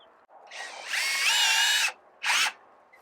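A power drill drives screws into wood for a DIY chicken feeder tube, whining at rising speed for over a second, then a second short burst after a pause, close and loud, no talk.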